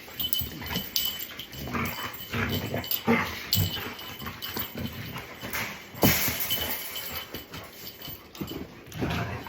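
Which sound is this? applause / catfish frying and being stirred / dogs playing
dogs playing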